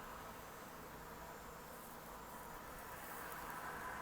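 Bees buzz around the east side of a large estate mansion, making a steady, faint, continuous hum of insect wings that never breaks.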